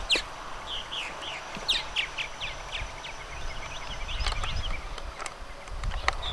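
Purple martins give repeated high chirping calls in a steady series, with a few sharper calls later, over outdoor background noise.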